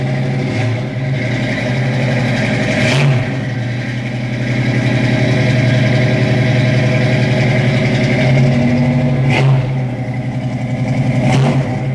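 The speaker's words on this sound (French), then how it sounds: "Faut mettre des coups de gaz, mais pas trop longtemps, pas faire prendre trop de régime." A cold car engine runs steadily throughout, with sharp throttle blips revving it up around three points before it settles back to a rough idle.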